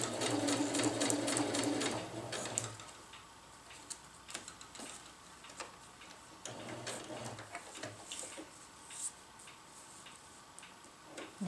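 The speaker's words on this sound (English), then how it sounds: "now my needle is pointing in this direction and I'm going to sew to this mark." A sewing machine stitches reinforcement on a winter tarp, a fast mechanical whir for a couple of seconds, then stops and restarts in short bursts amid ticking and handling clicks.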